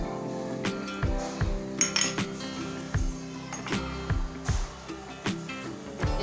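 Maida batter for jalebi is mixed with food colour in a bowl, with a utensil clinking and knocking against the bowl in an uneven rhythm, close and moderately loud.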